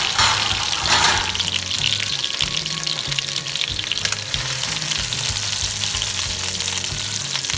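Chicken pieces frying in a pan for an Italian chicken stew, a loud, dense and continuous close sizzle with a low bubbling rumble underneath and no voices.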